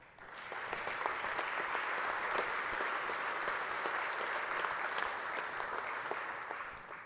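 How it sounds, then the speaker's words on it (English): Members of the Texas House applaud one another in the chamber, a sustained round of clapping from many hands that swells quickly and holds steady for several seconds. "join me in showing our appreciation to each other with a round of applause"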